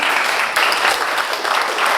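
A short burst of audience applause at a motivational talk during an anniversary celebration, brisk dense clapping from a crowd heard on its own.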